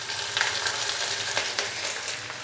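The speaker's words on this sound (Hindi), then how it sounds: "अच्छे से हम इसको मिक्स कर लेंगे और हल्का सा फ्राई कर लेंगे जस्ट 15 से 20 सेकंड के लिए" Onions frying with ginger, garlic and green chili paste for chicken kala chana pulao, a dense close sizzle with crackling pops and faint stirring, alone with no talk.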